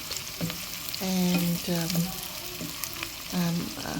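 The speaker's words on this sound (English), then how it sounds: "So keep frying it," Chicken korma frying in a pan, a continuous sizzle and stirring beneath someone speaking intermittently close by.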